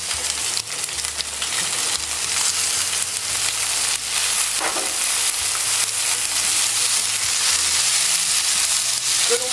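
Garnish for boned chicken paupiettes sizzles as it fries in a pan, a dense, continuous crackling hiss with small pops, close and steady throughout with no talking.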